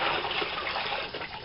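Compost tea being poured into a half-full bucket of water, a steady close gush of liquid splashing continuously for a moment with no talk over it.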